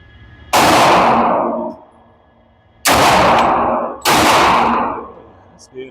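Three loud, close gunshots from an FM45 pistol-caliber carbine in .45 ACP fired at a target, each a sharp crack followed by a long ringing tail; the first stands alone, the other two come about a second apart.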